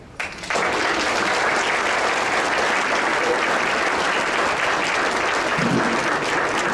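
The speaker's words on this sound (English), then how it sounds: "Let's give her a strong round of applause, please." A room full of people breaks into loud, sustained applause for a volunteer at a senior volunteer recognition event, the clapping building quickly and holding steady throughout.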